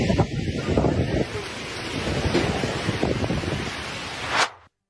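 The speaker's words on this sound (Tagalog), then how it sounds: "gaano kalakas ang hangin at ulan na bitbit na super bagyong Nando" Strong wind and rain of Super Typhoon Nando roaring as a dense, gusting rush with buffeting against the microphone, loud and continuous before abruptly cutting off.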